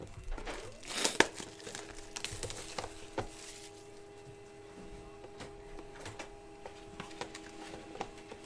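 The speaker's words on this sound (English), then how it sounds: "Let's print." A card printer printing a blank card during a Panini Court Kings basketball box break, a crinkly rustle as the card feeds, then a steady mechanical hum with soft ticks, close by and without talking.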